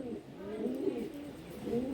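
Teddy pigeons coo in a loft with low, rolling, overlapping calls that carry on continuously at a moderate distance, and faint background noise underneath.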